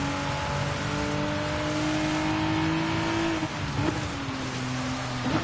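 Race car engine in Gran Turismo held at steady high revs on a Suzuka lap, a loud continuous whine that dips briefly and drops in pitch near the end, with no talking.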